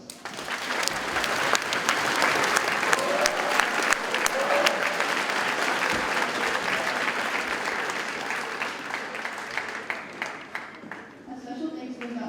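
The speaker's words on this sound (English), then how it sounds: "Please give yourselves a round of applause." Sustained applause from a large audience at a JROTC invitational drill competition, dense steady clapping that fills the hall for about ten seconds before gradually thinning out near the end.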